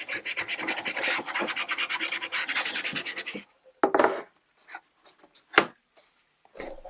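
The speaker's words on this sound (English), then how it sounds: "So I'm sanding this a little bit by hand" Hand sanding strips old stain and varnish from a 1700s wooden table. Quick, rhythmic rasping strokes come up close at first, then thin out into a few scattered scrapes with pauses between them.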